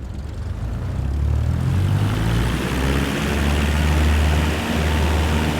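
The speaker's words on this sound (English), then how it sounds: "Apply full power, and I'll walk you through the takeoff as we go." Propeller airplane engine at full takeoff power in Flight Simulator 2024, a loud, steady, close droning roar that holds throughout with no talking.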